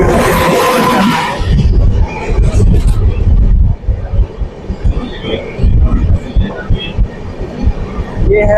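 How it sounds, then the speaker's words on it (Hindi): An oncoming Indian Railways train rushes past at close range, a loud rumbling clatter of wheels and cars that starts with a burst of wind noise, then rolls on with rhythmic thumps. "सामने से क्रॉस हो रही है एक ट्रेन हमारी, देखते हैं कौन सी है।"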